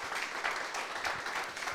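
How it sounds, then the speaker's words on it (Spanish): A church congregation applauding the Lord during a Spanish-language service, with dense, sustained clapping from many hands filling the room at a moderate level and no clear voices over it. "¿Le podemos dar un aplauso al Señor?"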